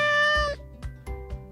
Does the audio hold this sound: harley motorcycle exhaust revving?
no